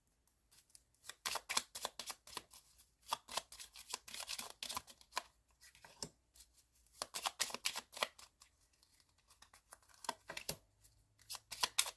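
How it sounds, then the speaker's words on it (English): Lenormand cards are shuffled and pulled in bursts of crisp riffling flutter and snapping, separated by brief pauses, close and fairly quiet with no talking. "So we will pull 9 cards here."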